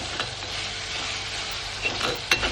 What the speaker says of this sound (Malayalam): കുറച്ച് ഉപ്പും ചേർത്ത് നന്നായിട്ട് വഴറ്റണം.